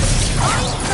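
A spell fired in Hogwarts Legacy: a dense, loud magical whoosh with a crackling burst and a rising shimmer, filling the full second without pause.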